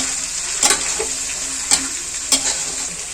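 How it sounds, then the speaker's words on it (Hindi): Cut okra fries in a pan with a steady sizzle, broken by three sharp scraping strokes of a spatula stirring it, close up and without talk. "अब इसमें जो हमने भिंडी की कटिंग करके रखी हुई है वो हम इसमें डाल देंगे अब अच्छे से। तो इसको भी हम अच्छे से इसी के साथ अच्छे से भून लेंगे।"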